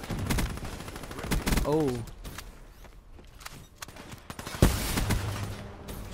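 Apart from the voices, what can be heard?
Weevil gun firing in Black Ops 3 video game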